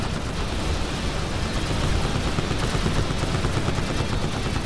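Weapons firing in GTA 5 with an Oblivion Drones mod, a dense, steady barrage of gunfire and rumbling blasts that fills the whole stretch at constant loudness, with no pauses.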